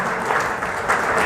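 A school audience at a former students' gathering applauds to welcome an organiser. The brief, loud, dense burst of clapping fills the whole moment.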